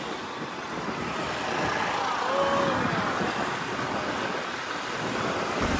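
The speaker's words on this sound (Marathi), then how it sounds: "काय जेवढी ट्रॅफिक आहे नाही इकडे आज" Busy road traffic during a Ganpati aagman procession near SKC College in Nalasopra East, a steady wash of car and engine noise at moderate distance, continuous without pauses and with no one speaking over it.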